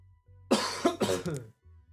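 A person coughs in a quick burst of two or three harsh, close coughs, loud against a quiet background, with no other sound.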